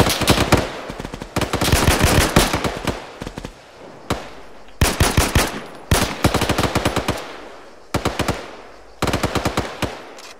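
Rapid automatic gunfire in loud, repeated bursts, each a few seconds long, separated by brief pauses.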